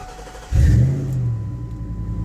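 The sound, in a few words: Ford F-150 starter cranking and engine starting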